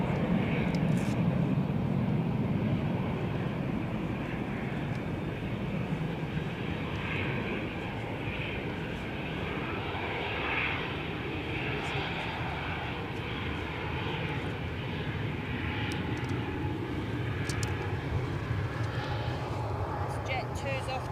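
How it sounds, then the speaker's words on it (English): A Jet2 airliner takes off from Edinburgh Airport bound for Milan. Its engines hold a broad, steady roar for the whole stretch, heard from outdoors under a little background talk. "Jet 2's off to Milan"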